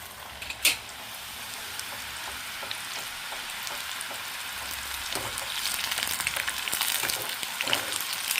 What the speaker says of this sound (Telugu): ఆయిల్ హీట్ అయింది మనం ఫ్రై చేసుకున్నవి వేసుకుందాము